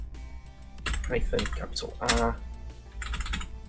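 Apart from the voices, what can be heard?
typing a command on a computer keyboard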